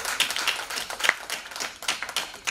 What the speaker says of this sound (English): I request the audience to, you know, applaud a little more.